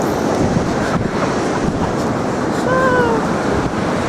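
Sea waves wash onto the shore at South Shields in a loud, continuous roar of surf with gusting wind on the microphone and a faint whistle-like tone partway through.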